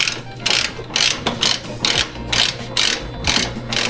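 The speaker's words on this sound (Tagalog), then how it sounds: "gagamitin natin ulit is yung 10mm socket wrench" A 10mm socket wrench ratchets while tightening parts of an IACV coolant bypass on a Toyota RAV4 ZZFE engine, with about eight loud close bursts of rapid clicking separated by short pauses.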